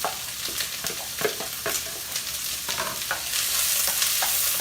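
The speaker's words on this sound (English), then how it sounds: "the onions, the fennel, and the garlic being all sauteed" Onions, fennel and garlic sizzle in hot olive oil, with a steady crackling fry broken by the clacks and scrapes of a wooden spoon stirring in the pot. The sizzle swells slightly louder toward the end.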